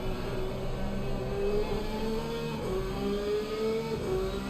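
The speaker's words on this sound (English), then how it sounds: "I love the sound of this Porsche though, boys." A Porsche race car in Assetto Corsa Competizione at Oulton Park drones steadily on track, its engine note rising through revs and shifting gears, loud and continuous with no talking.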